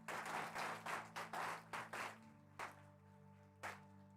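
A church congregation claps during a worship service, bursts of applause rising and falling for about two seconds before giving way to a sustained held keyboard chord with a few scattered late claps.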